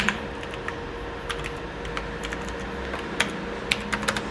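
Keys clatter on a computer keyboard while text is typed into Microsoft Word 2010, irregular quick clicks over a steady low room hum, close and alone.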